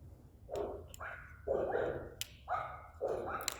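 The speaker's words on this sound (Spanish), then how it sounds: "Nomás los perritos van a salir en la grabación." Several dogs barking in separate bursts with short gaps, fairly close, over a low steady background hum.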